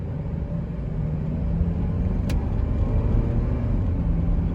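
A 2009 Honda CR-V, right-hand drive, with its engine given a little throttle, heard as a steady low rumble with road and cabin noise from inside, constant and moderately loud throughout.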